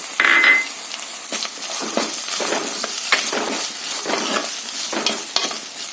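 Small shallots are dropped into a hot pan of frying ginger-garlic-pepper paste for a prawn curry with kudampuli, giving a loud initial sizzle followed by steady crackling and repeated scraping stirs, with no voices.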